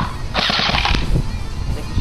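An Echo 1 M4 airsoft gun firing with a 90-round mid-cap magazine, a quick rattling burst of mechanical clicks and clacks, close and brief.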